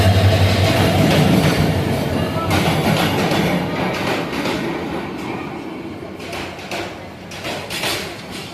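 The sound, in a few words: Parjatak Express passenger train arriving at platform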